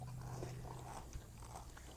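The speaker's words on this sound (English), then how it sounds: "So normally they will just chew the grass like this." An Idaho pasture pig chews grass up close, a faint soft rhythm of crunching bites over a low outdoor hum, with no talk.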